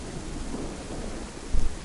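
Rain falls in the DayZ game world as a steady, broad hiss, with a short low rumble near the end.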